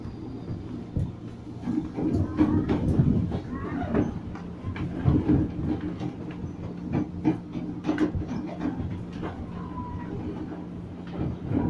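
A train rumbles and clatters as it arrives on track 1 toward Manggarai Station, a steady rolling racket of wheels and metal with scattered clanks, no talking.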